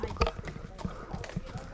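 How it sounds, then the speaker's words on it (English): Hooves of a horse clip-clopping at a walk, a steady series of close, hollow knocks under people talking nearby. "What a beautiful horse."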